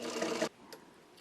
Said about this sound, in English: Let's see how well this machine can wind a modern Class 66 bobbin.